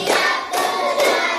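Classroom hands clapping in the rhythmic 'tepuk semangat' routine, with two crisp group claps spaced evenly, near and clear, with no voices.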